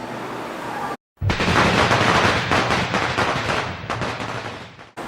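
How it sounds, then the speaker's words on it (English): Dense rapid crackling bangs of firecrackers set off at midnight for Chinese New Year, loud and continuous after a brief silence, with no talk. "when the New Year clock strikes at midnight, people usually Setting of firecrackers"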